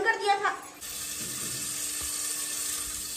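Water runs from an open tap in a home sink as a steady, even hiss of flow that starts abruptly and continues alone after a brief burst of voices.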